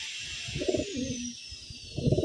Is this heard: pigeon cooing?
yes